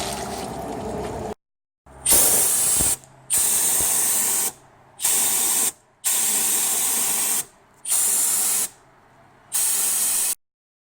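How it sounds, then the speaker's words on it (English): Compressed air blasting through the drain plug hole of a 6T40/6T45 automatic transmission, a loud, close hiss repeated in about six or seven separate bursts of a second or so, with short silent pauses between them. "just blow some air through that when this stops draining, and that'll force a little bit more"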